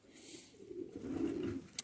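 Pigeons cooing in a loft, low rolling coos building through the middle, with a faint bird call high above and a brief sharp tap near the end.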